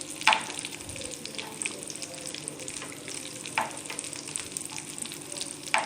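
Algerian potato maakouda patties fry in an oil-filled pan with a soft, steady sizzle and occasional sharper crackles, fairly quiet and close, with no voice over it.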